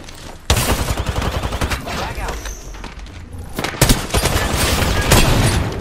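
Gunfire in the video game Apex Legends, loud rapid bursts of automatic shots that keep going almost without a break, with heavy thumps mixed in and voices talking underneath.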